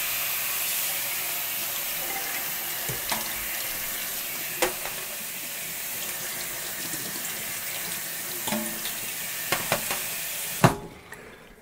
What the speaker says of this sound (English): Let's give these strawberries a real good rinse.